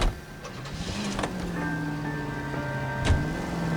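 Car in L.A. Noire starting up: a few clicks, then the engine catches with a steady rising hum and whine that settles into an idle, with a thump near the end.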